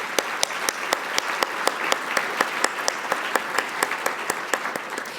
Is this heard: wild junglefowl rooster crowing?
no